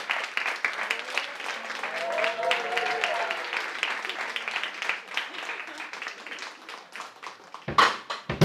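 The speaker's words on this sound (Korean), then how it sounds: "큰 박수 부탁드립니다" An audience applauds to welcome a guest performer at a jazz concert, with close individual claps over a crowd and a voice talking underneath, ending with a sharp knock.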